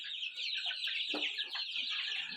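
Large hens and month-old chicks in a new coop cluck and chatter steadily, a close, busy flock sound with overlapping calls and no talking.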